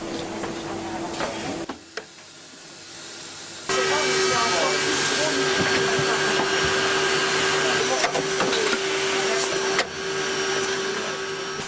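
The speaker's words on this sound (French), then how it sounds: "L'incrustation de la charnière se fait à chaud. La matière acétate est fondue autour de la racine de la charnière." Machine heat-embedding a hinge into an acetate eyeglass frame, melting the acetate around the hinge root: a steady whirring hum with a sustained tone, quieter at first, then louder and constant to the end.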